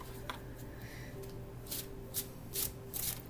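Soft, close riffling and rubbing of tarot cards being shuffled, with a few brighter flicks toward the end; quiet overall.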